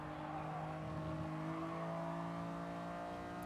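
Radio-controlled race cars at a club league round at Blue Moon Bay, a continuous whining motor drone with steady tonal layers, sustained and moderately loud throughout without talk.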